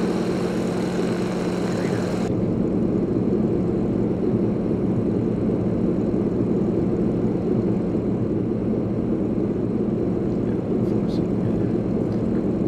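The propeller engine of a Yak-18T trainer plane in the X-Plane 11 flight simulator drones low and steady throughout, with a brighter upper layer cutting out after about two seconds and the rumble carrying on.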